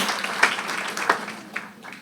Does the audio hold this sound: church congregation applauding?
yes